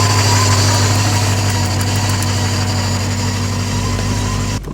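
A Ford AU XR8 Falcon V8, abandoned for about two years and unable to start off the key, running at a steady loud idle with a constant engine drone and hum throughout, with a brief change at the very end.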